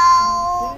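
A house cat gives a single short, tonal meow up close, fading out over under a second.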